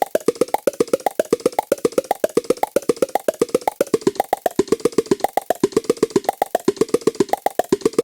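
Rapid even stream of short plucky synthesized notes from Audiomodern Playbeat, each hit at the same loudness but shifting up and down in pitch, a steady rhythmic pattern with no voice.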